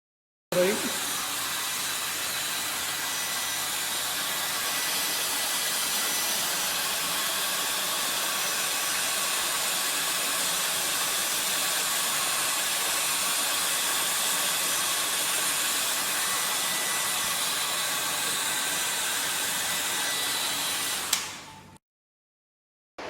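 A dryer blows over a polished aluminium alloy specimen in a lab: a steady, loud airy hiss runs for about twenty seconds, then cuts off abruptly.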